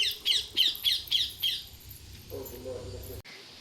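A bird squawks loudly at visiting parrots in a backyard, giving a run of five or six harsh, rhythmic calls close by before falling quiet, with faint low background noise and a brief thump near the end.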